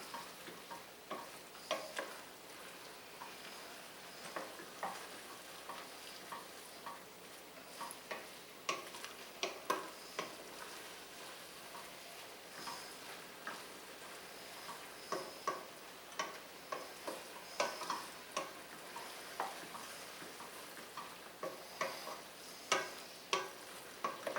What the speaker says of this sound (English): I always like to cook my flour before I finish the roux.